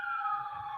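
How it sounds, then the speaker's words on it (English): A distant emergency siren wails in a steady high tone, faint and brief, with no talking. "sorry for the emergency vehicle sirens"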